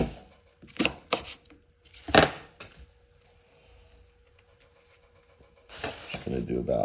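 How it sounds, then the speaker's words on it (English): A knife cuts an onion on a board in a few separate chopping knocks, with a quiet hum between them and louder kitchen clatter near the end. "I'm actually gonna cut up a little bit more of this onion as I start to cry here."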